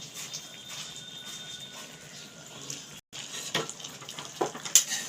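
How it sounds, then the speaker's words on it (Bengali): Ghee poured over sukto, a Bengali mixed-vegetable dish, sets off a quiet continuous sizzle in the pan, with a brief gap partway through and then a few light utensil clinks and stirring sounds toward the end. "এবার আমি শুক্তোর ওপরে একটু ঘি দিয়ে দিচ্ছি।"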